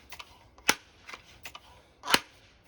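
Pneumatic air rifle shots, with two sharp, close cracks about a second and a half apart among fainter clicks of handling.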